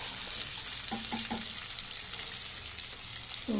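Eggs frying in a pan for egg rezala give a continuous close sizzle and crackle of hot oil, with a few soft stirring taps partway through.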